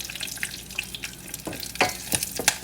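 Dried chili and curry leaves fry in hot oil in a pan over medium heat, a close, crackling sizzle with spattering pops and stirring that grows busier toward the end.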